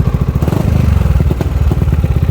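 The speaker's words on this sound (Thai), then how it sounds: "เดี๋ยวทีนี้ผมจะลองเร่งเครื่องนะครับ ลองฟังเสียงความแน่นๆของเขานะครับ" A 2019 Yamaha XMAX 300 scooter fitted with an aftermarket exhaust, revved on a stand with its rear wheel off the ground, giving a loud, close, throbbing engine note with rapid pulsing firing beats and slight stumbles.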